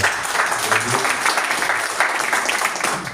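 Dense, steady applause from a church congregation, fairly loud and continuous, with a few voices mixed in underneath.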